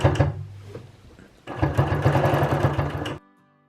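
A Bernina Q16 sewing machine stitches free-motion quilting in loud, rapid bursts, with a brief run, a pause, then a longer steady stretch before it stops.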